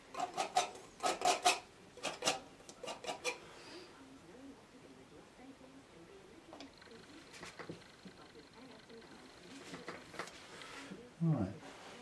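A palette knife scrapes bluish oil paint off a palette in a series of short, faint rasping strokes, clustered at first and then more scattered, with quiet background noise.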